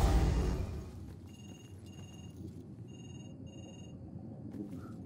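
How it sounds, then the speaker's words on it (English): A telephone rings in the video game Murdered: Soul Suspect, a police-station scene: repeated electronic double-burst rings over a low ambient rumble, with a louder noisy swell at the start. "I just made that phone ring and my house phone downstairs is ringing as well."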